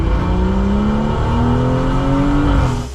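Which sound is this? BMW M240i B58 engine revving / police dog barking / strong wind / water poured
BMW M240i B58 engine revving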